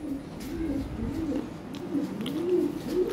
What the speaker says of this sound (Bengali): কবুতর ব্রিডিং করতেছে, ভালো কবুতর।